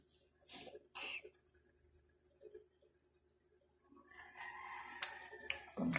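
Faint rooster-like crowing and clucking in the distance with quiet gaps, followed by louder rustling and bird noises near the end.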